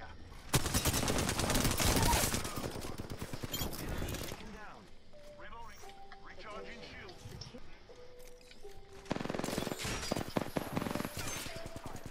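Rapid automatic gunfire hitting the player in Apex Legends, loud bursts at the start and again near the end with quieter squishy game sounds between, while voices talk over parts of it.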